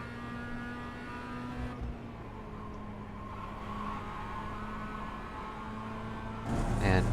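Race car engine droning steadily on the track at Lime Rock Park, a continuous mid-level roar heard from inside the car with a rise in intensity near the end as throttle increases.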